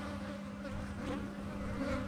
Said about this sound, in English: These bees are flipping nuts.